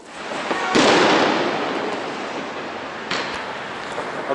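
New Year fireworks go off over Tbilisi, with a big burst followed by a continuous crackling and rumbling roar and another pop later on, all sounding distant to mid-range.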